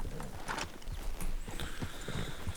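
Horses in the Red Dead Redemption 2 game clip-clop with a quick uneven hoof rhythm at moderate distance, with a faint whinny among the steps and no clear talking.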